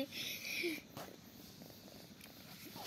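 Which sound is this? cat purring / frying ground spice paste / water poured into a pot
cat purring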